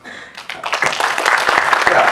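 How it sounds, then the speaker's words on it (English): A conference audience bursts into applause for the event's sponsors, clapping building from quiet to a steady, moderately loud patter of many hands. "please round of applause"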